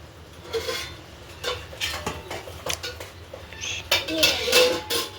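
Metal lid set onto a pot of dum biryani cooked over a wood-fired village stove, heard as a few close clanks and clinks of cookware.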